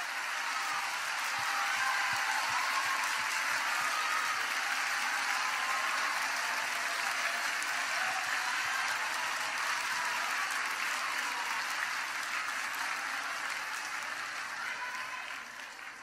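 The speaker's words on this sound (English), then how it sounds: "pause and clap for their success and do it real good" A church congregation claps together in sustained, dense applause that holds steady and loud for the whole stretch before easing slightly at the end, with no talk over it.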